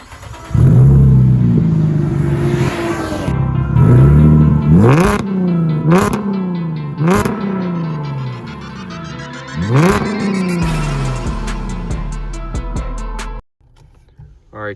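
A car driven at night, its engine rumbling and revving through several rising gear pulls, close and steady, with brief clunks between shifts before dropping away near the end.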